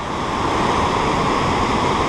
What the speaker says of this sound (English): Pretty amazing waterfall.